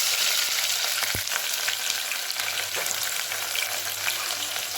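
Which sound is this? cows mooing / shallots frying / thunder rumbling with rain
shallots frying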